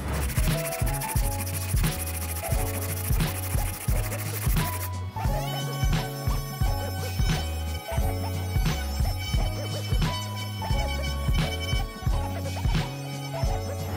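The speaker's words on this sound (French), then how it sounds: "on va affiner en faisant ici du ponçage pour venir régulariser et aussi affiner l'ensemble" Hand sanding of a handmade wooden photo frame to smooth and refine it before painting, heard as steady, rhythmic rubbing strokes close up, continuing throughout with no talk.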